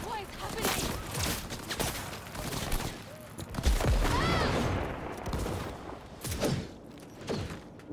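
Bursts of gunfire crack through a Cyberpunk 2077 firefight, irregular volleys of close shots with a heavy thud near the middle, mixed in with voices talking.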